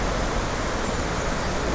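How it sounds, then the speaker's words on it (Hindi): Rushing water pours loudly and continuously, a dense broadband roar driving a water-powered mill (chakki) in a village in the Keran valley, Kupwara. "ये चक्की है, ये पानी पे चलती है"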